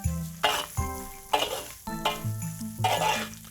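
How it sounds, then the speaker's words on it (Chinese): Preserved mustard sprouts for a Sichuan dan dan noodle topping are stir-fried in a wok: repeated close spatula scrapes and tosses over a low sizzle, with a steady tonal hum underneath. "芽菜它不要扯油，把芽菜的香味炒出来"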